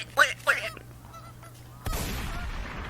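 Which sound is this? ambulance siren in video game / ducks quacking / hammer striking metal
ducks quacking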